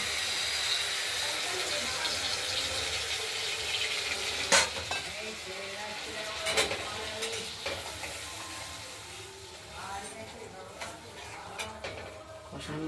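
Ground spice paste for paneer and potato curry fries in a wok with a soft continuous sizzle, broken by several sharp spoon scrapes and clinks as it is stirred; a voice speaks faintly now and then.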